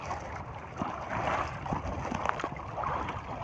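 Rough, choppy sea slaps against a small boat under way, a steady broadband wash of water and wind with scattered louder splashes, close and continuous, no talking.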